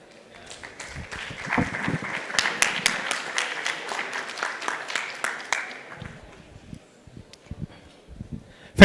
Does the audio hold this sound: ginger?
no